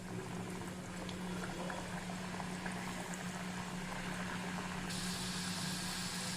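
Onion samosas frying in hot oil in a kadai over a medium flame, a steady, low bubbling sizzle that holds evenly throughout with no talking.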